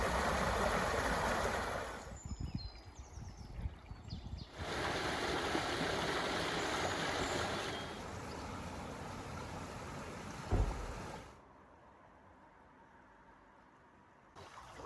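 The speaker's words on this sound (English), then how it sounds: "This is where the Stanford Brook joins the Gatwick stream coming in from the west." Gatwick Stream flows where Stanford Brook joins it from the west, a soft steady rush and trickle of water heard quietly, with the level shifting between sections and fading lower toward the end.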